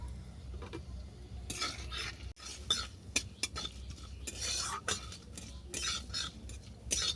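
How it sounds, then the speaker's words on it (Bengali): Five-spice, bay leaf and dried chili fry in oil in a pan for a Bengali lentil dish, with steady sizzling under repeated stirring and scraping clinks of a utensil against the pan, close and fairly loud. "তেল দিয়ে আমি ফোড়নগুলো ভেজে নেব ফোড়নের মধ্যে দিলাম পাঁচ ফোড়ন তেজপাতা আর শুকনো লঙ্কা"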